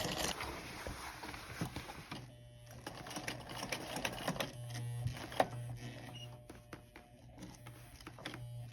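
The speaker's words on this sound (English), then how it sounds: "either side of the buttonhole was stitched using the foot of the machine as a guide" A sewing machine stitches beside the buttonhole of a leather WWII RAF-style jerkin: a steady mechanical hum with rapid needle ticking that settles into a continuous run after a noisy start, close and fairly loud, no voices.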